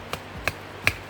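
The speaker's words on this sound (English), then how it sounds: "I'm going to take my ground stake, place that in the ground, and then I'm just going to hammer it in with my rubber mallet" Rubber mallet hammering a ground stake into the ground for low-voltage landscape lighting: three evenly spaced, dull thudding blows, close and fairly loud, with no talk.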